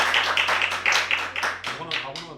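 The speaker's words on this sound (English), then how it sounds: "a big round of applause to all of you." Applause from participants at an online kickoff event, a run of scattered claps with a steady hum underneath, fairly close and moderately loud, with voices chatting over it near the end.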